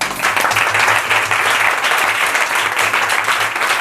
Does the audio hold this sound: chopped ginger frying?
no